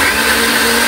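A mixer grinder whirs steadily while grinding masala, a loud, close, continuous motor drone.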